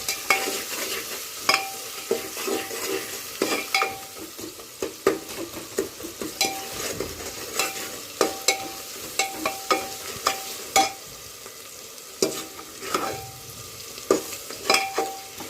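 Onions and tomatoes fry in a pan with turmeric and salt, a steady sizzle broken by repeated stirring scrapes and clicks of a utensil against the pan, close and fairly loud, with no talking.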